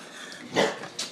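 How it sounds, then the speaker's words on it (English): A dog gives a short bark followed by a quick higher yip, both fairly close against a quiet room hum. "that's my dog barking"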